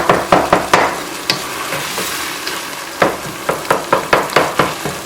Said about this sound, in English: I keep on breaking it with the spatula